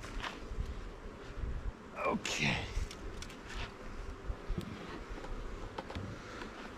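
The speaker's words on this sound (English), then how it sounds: "Now we have a box full of bees." Honey bees buzz in and around a hive box during a colony split, a faint, steady droning hum under handling noises, with a person speaking briefly.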